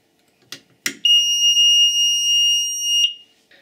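A 6th Sense International intruder alarm is set into test mode: two short clicks, then a loud, piercing, steady electronic tone sounds for about two seconds and stops abruptly.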